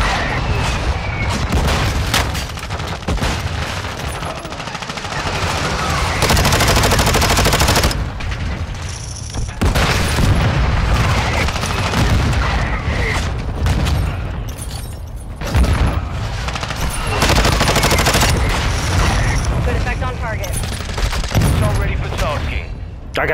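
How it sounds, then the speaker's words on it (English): A mortar strike in Call of Duty: Modern Warfare II: loud booming explosions and rattling automatic gunfire in dense, continuous waves, with a few brief lulls between heavy blasts. "I got a mortar strike for us"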